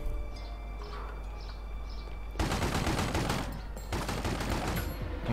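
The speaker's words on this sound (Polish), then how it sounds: "Okej, tu się już zaczynają jakieś strzały." Gunfire in The Godfather video game comes first as faint scattered shots under light chirping, then breaks into dense, loud bursts of rapid automatic fire with a brief pause between them.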